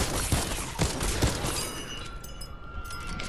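Loud, dense bursts of gunfire from a Fortnite zombie fight, with sharp repeated shots over a constant wash of game noise that thins out toward the end.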